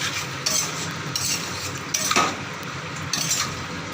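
Drumsticks and potatoes stir-frying in a pan with a little water, a low bubbling sizzle under several scraping strokes and light clinks of a spatula against the pan, close by.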